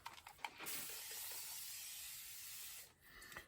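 A steamer hisses steadily for about two seconds while treating a water-damaged comic book, framed by brief clicks and handling noises.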